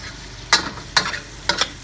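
Garlic stirred into string beans and pork frying in a pan: three distinct scraping stir strokes over a steady soft sizzle, close and fairly loud, with no voices.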